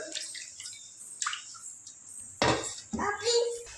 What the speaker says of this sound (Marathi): तांदूळ धुवून घेऊया